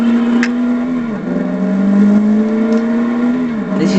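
Aston Martin V8 Vantage sports car with a 380 horsepower front-mounted V8, its engine droning steadily under acceleration, pitch holding and dipping briefly between gear changes, loud and close throughout.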